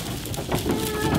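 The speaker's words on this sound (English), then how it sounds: "Those are sheep, buddy." Sheep bleat and call briefly, a short burst of livestock voices close by over a low background.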